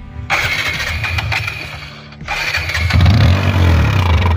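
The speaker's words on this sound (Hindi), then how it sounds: "तो बाइक को चालू करते हैं हम।" A TVS Apache RTR motorcycle engine with a balloon over its silencer cranks, then catches and settles into a rumbling idle that grows louder and steadier.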